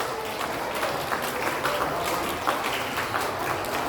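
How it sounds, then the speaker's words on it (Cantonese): Audience applause at a lower-grade school year-end prize-giving ceremony, a steady wash of clapping from many hands lasting throughout, fairly loud and even with no clear breaks. "請大家咧一次過俾啲掌聲咧"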